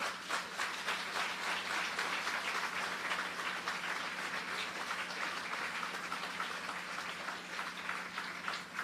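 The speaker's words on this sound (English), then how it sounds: "please give the family a round of applause" Sustained audience applause for a family at a road renaming ceremony, dense steady clapping from a crowd that holds at an even level throughout, with no talking over it.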